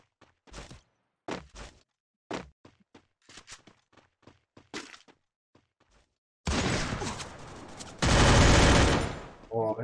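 Gunfire in the Free Fire battle royale game: scattered single shots and short bursts at first, then a sustained, loud stretch of rapid automatic fire, with a player talking now and then.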